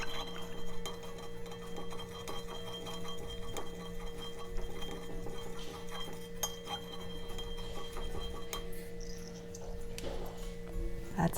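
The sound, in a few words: spoon stirring boba tea in a glass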